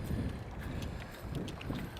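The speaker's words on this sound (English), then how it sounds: "Another little gust of wind coming." Wind gusting across a camera microphone outdoors on a boat, a steady low rumble and buffeting that swells and eases throughout without any voices.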